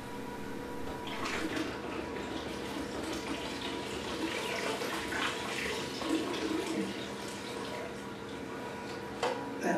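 Water runs through a siphon hose while a 300-gallon reef tank is drained, a fairly faint, continuous gurgling flow with a brief sharper burst near the end.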